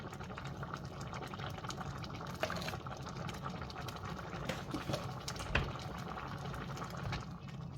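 Plantain porridge with salt and powdered seasoning simmers in a pot, giving a soft, steady bubbling hiss with occasional small pops, fairly quiet and continuous with no talking.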